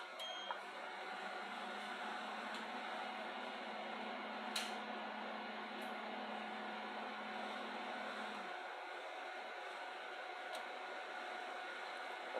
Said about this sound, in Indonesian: di sini inverter sudah menyala